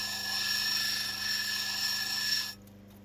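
Whining, buzzing lapidary cutting machine grinding a 50-carat gem-grade opal, steady and loud for about two and a half seconds before the high whine cuts out, leaving a low hum.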